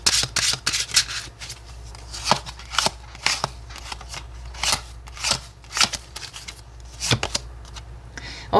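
Tarot cards are shuffled by hand in repeated quick riffling bursts, close and crisp, separated by short pauses over a quiet background.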